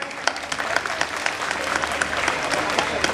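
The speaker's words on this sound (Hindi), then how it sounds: "तालियां हो जाए।" A crowd gathered outdoors for a chowk inauguration in Malad claps in a dense, lively burst of applause, with low rumble and faint background chatter beneath the clapping.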